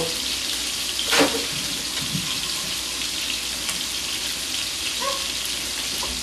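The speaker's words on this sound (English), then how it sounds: "You want to rinse it until you get clear water." Steady running water pours continuously, a faucet stream rinsing rice, with a brief clatter near the start and no talking.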